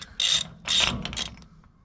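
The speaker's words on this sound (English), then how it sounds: "using a 2 9/16 socket, you need to take the axle nut off." Ratchet wrench clicking with a 2 9/16 socket as a Dana 70 axle nut is removed on a 12-valve Cummins truck; two loud bursts of rapid ratcheting, a third shorter, close up with no talk.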